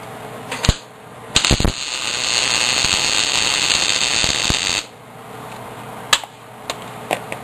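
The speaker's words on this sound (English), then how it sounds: "go ahead and weld this thing together." Electric welding on a bench pin pagoda in a barn workshop: sharp clicks and taps, then a loud sustained buzzing crackle of the arc for about three and a half seconds, followed by a few more scattered clicks, close by.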